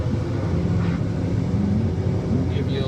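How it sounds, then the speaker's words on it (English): Komatsu WA600 wheel loader heard from inside the cab in first gear at full throttle, a loud steady low engine roar and drone with no breaks. "First gear, get some weight in the bucket, throttle's all the way on the floor, and I just clutch into it."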